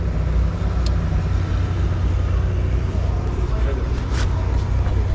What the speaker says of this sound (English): You want to just idle it once and see if it sounds normal at idle?